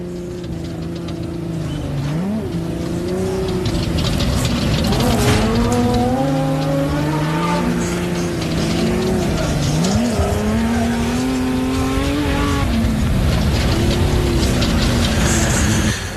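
Onboard a slow-moving race car, the 122 Falk entry, the engine drones loudly with rising and falling pitch through gear changes, with tire squeal on corners.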